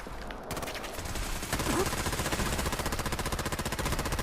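Rapid automatic gunfire in the video game Fallout 4, a dense, continuous rattle of shots that builds into a loud, steady stream of repeated bursts.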